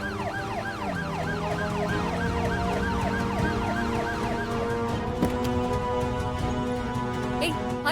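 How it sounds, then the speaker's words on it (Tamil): An ambulance siren wails in rapid, repeating rising-and-falling sweeps over street noise, holding loud and close before settling into a steadier tone. "ஆம்புலன்ஸ் போங்க போங்க போங்க."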